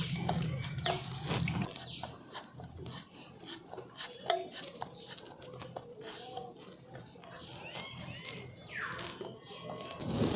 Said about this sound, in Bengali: ছুরিটার মধ্যে অল্প একটু ঘি লাগিয়ে দিচ্ছি এরপর এখান থেকে একটু একটু করে কেটে নিচ্ছি